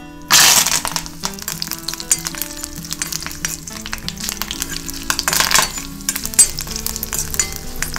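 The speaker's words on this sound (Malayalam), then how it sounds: "ഇനി അതിലേക്ക് നമുക്ക് കറിവേപ്പിലയും വറ്റൽമുളകും വറുത്തെടുക്കാം" Curry leaves and dried red chillies fry in hot oil for a Kerala sadya pineapple pachadi tempering, a loud, steady close sizzle with crackles and occasional clinks of stirring.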